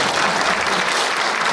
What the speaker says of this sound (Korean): 박수 치시고 싶으면 치워주세요